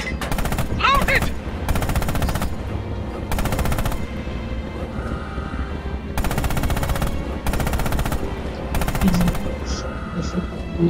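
Tank cannon and machine-gun fire in the Red Orchestra 2: Heroes of Stalingrad video game, with repeated loud bursts of rapid automatic fire separated by short pauses, over a constant rumble of battle.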